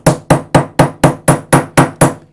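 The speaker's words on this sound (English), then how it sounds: "you just hammer it in like that and you can see I already have an indentation" Eight sharp, evenly spaced strikes of a work hammer driving binding wire into a metal sheet, loud and close in a steady rhythm with no talk.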